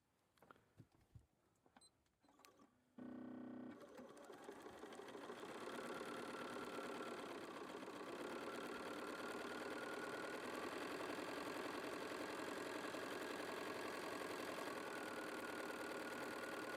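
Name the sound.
sewing machine stitching a quarter-inch seam with quarter-inch foot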